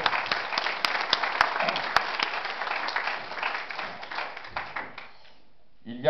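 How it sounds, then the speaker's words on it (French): Applause from an audience at an outdoor political rally, dense sustained clapping that fades out over several seconds, with a voice starting up at the end. "Oui, on peut les applaudir."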